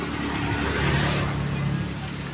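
A motorcycle passes close by in a street, its engine a steady rumbling drone that swells briefly and then eases, under a general outdoor wash of noise.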